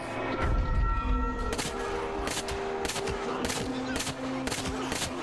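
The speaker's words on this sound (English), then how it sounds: "So we'll just use a pistol." Pistol shots in the zombie video game Into the Dead: about six sharp, evenly spaced reports ring out over a steady droning game backdrop, loud and close, with no talking.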